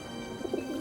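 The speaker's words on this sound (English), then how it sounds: "And feral pigeon is his favourite food." Soft, low cooing from a feral pigeon in London, a few faint throaty notes over steady background hum.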